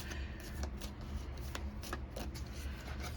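Tarot cards being shuffled by hand, a quick run of papery riffles and flicks with short bursts repeating every few tenths of a second, close and moderately quiet.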